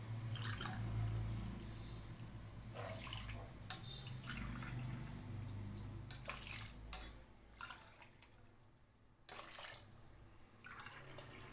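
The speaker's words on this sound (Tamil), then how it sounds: "அதனால் நம்ம 4 டம்ளர் தண்ணி ஊற்றுறோம்." Tumblers of water are poured into a cooking pot for tomato rice, giving several splashing, gurgling bursts separated by short pauses, moderately close in a quiet kitchen.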